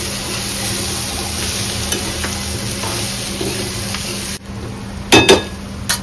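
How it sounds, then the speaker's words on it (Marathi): Chana dal is stir-fried with spices in a kadai, a loud, dense sizzle with constant stirring that cuts out abruptly, followed by a few sharp metallic clinks. "आता आपण जी चण्याची डाळ घेतली ती आता मिक्स करून घेणार आहोत कडेत टाकून घेतली आहे आणि व्यवस्थित परतून घेणार आहे"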